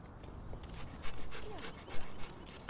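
A dog in the video game Fable II gives faint whimpers and short yips under steady game ambience and footsteps, with a few brief louder bursts toward the end.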